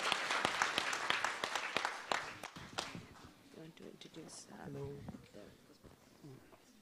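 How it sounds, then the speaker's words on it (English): Audience at a medical quiz grand finale gives the six competing teams a round of applause. Quick, fairly quiet clapping fades after a few seconds, and a voice talks over the tail. "The 6 teams for you, ladies and gentlemen, a round of applause louder"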